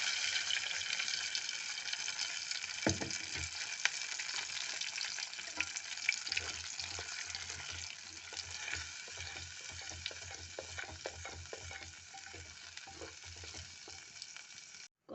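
Ground spinach paste fries in a pan with curry leaves for palak paneer, giving a continuous soft sizzle with scattered stirring scrapes and a louder knock near the start, alone without talk.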